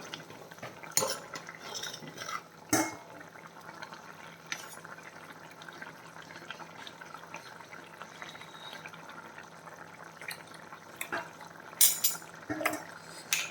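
Fish curry is stirred in a pot with a spoon, giving light scattered scrapes and clinks over a quiet cooking background, close and faint without talk.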